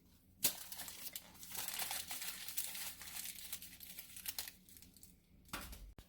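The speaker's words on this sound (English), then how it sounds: "I'm going to cut the tops off of them and then wrap them in foil," Aluminium foil crinkles and crumples as it is wrapped around heads of garlic with their tops cut off, in bursts of crisp rustling at close range with short quieter gaps.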